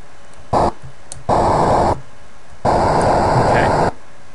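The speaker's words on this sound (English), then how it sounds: "we got the thruster sound" Spaceship thruster sound effect in an Asteroids game built with LibGDX: harsh white-noise hiss bursts, one short and two longer, switching on and off abruptly as the key is pressed and released.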